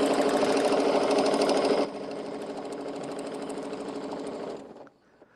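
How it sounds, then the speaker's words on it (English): A sewing machine runs steadily, stitching along fabric edges for a winter fan blade quilt block, with a dense continuous whirr that drops slightly in level partway through and then stops near the end. "Then I'm stitching all the way down to there"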